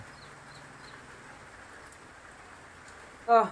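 Light morning rain falls as a soft, faint steady hiss, with a rooster crowing a few times in the distance and a short louder bird call at the very end.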